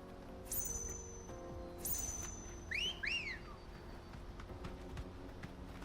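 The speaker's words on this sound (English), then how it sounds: "Again, Clive, not the right whistle." Two short rising whistles from Clive in Final Fantasy XVI ring out over a low ambient game bed, followed by a pair of quick chirpy bird-like calls, all fairly close and clear with no talking.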